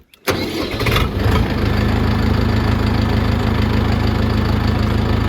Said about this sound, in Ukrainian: І заводимо даний тракторець.